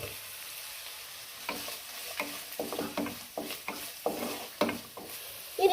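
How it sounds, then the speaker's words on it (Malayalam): Chopped carrot and onion fry in a pan for semiya upma under a steady sizzle, with repeated scraping strokes of a spoon stirring at an uneven rhythm, close and moderately loud. "അരക്കപ്പ് സവാള കൊട്ടിയരിഞ്ഞതുകൂടെ അങ്ങോട്ട് ഇട്ട് കൊടുക്കുക"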